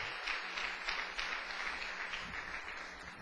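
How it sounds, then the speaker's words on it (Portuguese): A church congregation claps continuously in praise, a dense, even wash of applause filling the room for several seconds with no voices above it. "Agora você pode dar outra salva de palmas para o Senhor."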